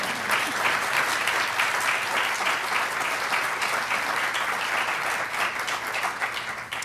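Audience applause at a State Department LGBTQ+ foreign policy event, a dense, even wash of many hands clapping that holds steady and fairly loud for several seconds, with no voices above it.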